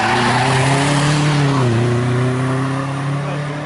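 A 1988 Renault 4 F4 race car pulls up to the start line of a historic hillclimb, its engine loud and close, holding a buzzing tone that dips briefly and then settles back into a steady drone.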